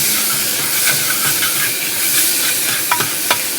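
Tempering oil for chana dal sizzles and hisses steadily in a pan, with a few sharper spits and crackles rising over the continuous frying noise, close and fairly loud.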